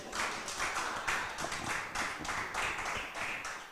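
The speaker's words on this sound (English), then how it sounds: "Please, a round of applause for Diar." Audience at the Miss Eminence Ghana 2024 pageant giving a round of applause, a moderate, irregular patter of claps with distinct bursts running steadily through the few seconds.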